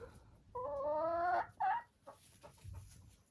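A hen gives a short drawn-out cluck close by, followed by a second brief call and soft trailing noises.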